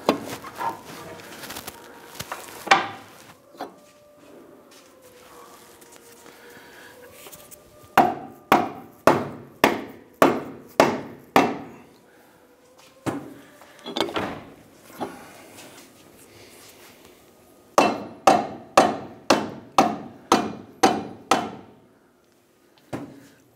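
A ball joint on a 2008–2013 Nissan Rogue being hammered into the steering knuckle, hard metallic blows in quick rhythmic bursts of several strikes each, close and loud, with quieter scraping between bursts.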